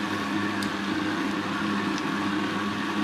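Blender running steadily on its lowest power setting while mixing chicken meatball dough, a continuous motor whir with a low hum, close and unbroken throughout with no talking.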